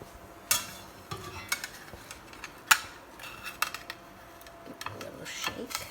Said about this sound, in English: I think I'm going to use my spatula for that.